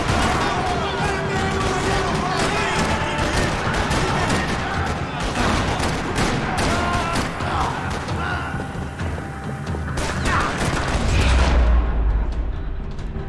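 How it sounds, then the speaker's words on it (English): Sustained gunfire rattles across a parking lot in the Max Payne 3 video game, with rapid bursts and heavy booming shots layered into a loud, continuous barrage that swells near the end. "Another parking lot rattling with gunfire."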